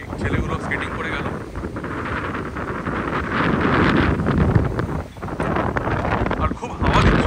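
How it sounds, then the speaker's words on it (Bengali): Strong wind buffets the microphone at a seafront promenade at night, with a loud, continuous roar that rises and dips in gusts. "আর খুব হাওয়া দিচ্ছে, আর এই সমুদ্রের সামনে এত হাওয়া দিলে"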